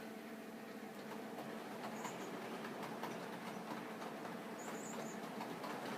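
A Baltimore and Ohio model railroad train runs steadily with a continuous rolling rumble and faint clatter of wheels on track, with no talk.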